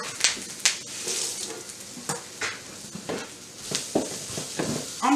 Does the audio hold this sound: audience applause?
no